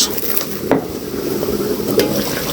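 A spoon stirs a sizzling chicken curry in a handi pot, a continuous close frying hiss broken by a couple of quick spoon scrapes against the pot.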